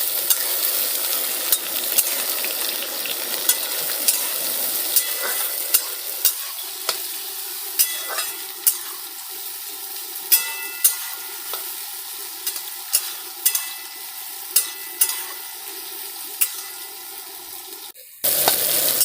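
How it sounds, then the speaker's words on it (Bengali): Food fries in a pan with a continuous hiss. A sharp tap or scrape of a utensil lands every second or so, and the sound cuts off abruptly near the end. "এটা ভালো করে একটু ভেজে নেব।"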